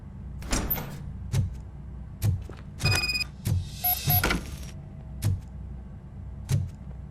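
A door opening in the video game Robocop Rogue City, heard as a string of sharp mechanical clunks and thuds with a brief whirring slide in the middle, fairly close and with no voices.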